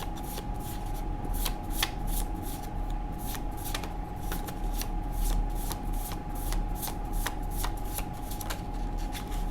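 Tarot cards being shuffled by hand, a long run of crisp riffling flicks repeating at a steady rhythm, close and clear over a faint constant tone.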